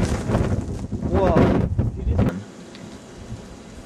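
A strong gust of wind buffets the microphone during an intense winter storm with a heavy snow band, roaring loudly for about two seconds under a voice, then easing to a quieter rush.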